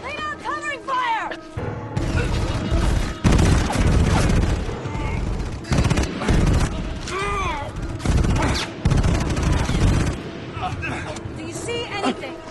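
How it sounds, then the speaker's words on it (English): Heavy gunfire in a firefight, with rapid bursts of shots and booms crashing close and loud across the whole stretch, while voices shout over the barrage. "Lay down covering fire!"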